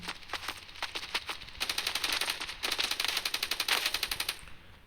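Machine gun fire in the mobile shooter Standoff 2, rapid bursts of close, loud automatic shots in quick rhythmic strings, pausing briefly before a longer sustained stream that cuts off abruptly.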